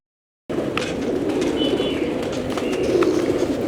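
Caged pigeons coo steadily in a low, throaty murmur, several birds overlapping, with a few faint chirps and wing flutters in the background.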